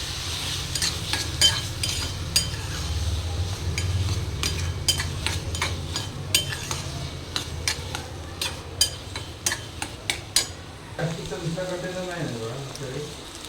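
A spoon stirs eggplant bharit mixed with goda masala, red chili powder and chopped coriander, giving repeated close scrapes and light clinks against the pan over a steady low background hum, with a slightly busier shuffle near the end.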